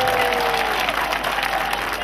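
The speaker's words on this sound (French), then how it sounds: "Applaudissez pour le Seigneur Jésus-Christ" Applause from a crowd at an evangelical crusade gathering in Mbouda, a steady wash of clapping that fills the whole stretch, with a faint sustained tone running beneath it.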